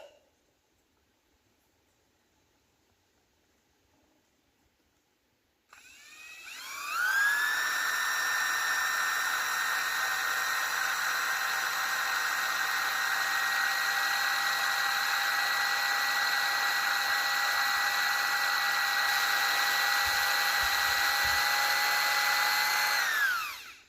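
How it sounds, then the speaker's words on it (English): A power drill bores into the oil pan of a Peugeot 504 diesel, silent at first and then spinning up to a loud, steady whine with bright harmonics, held almost twenty seconds before cutting off. "Where am I drilling to?"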